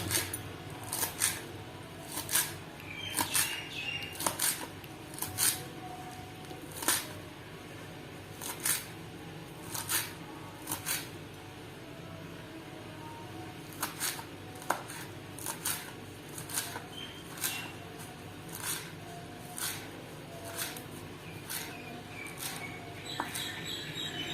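Sharp knife strokes tap against a board in irregular bursts, finely chopping coriander leaves; quiet and close, with no talking.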